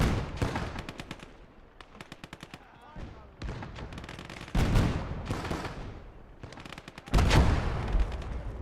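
Gunfire in Call to Arms - Gates of Hell: Ostfront, in a Finland campaign battle, comes as repeated sharp cracks and rattling bursts, some rapid volleys and some heavier single reports, with loud distant-sounding booms rolling between them.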